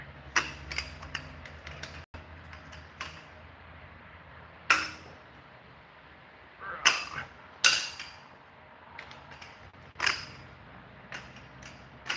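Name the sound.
jack handle used on torque wrench to loosen engine bolts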